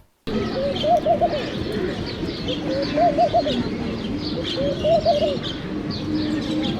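Laughing dove calling outdoors near a mangrove, giving repeated bubbly rising-and-falling coo phrases that sound like human laughter, each a few seconds apart, loud and close over a steady background hiss.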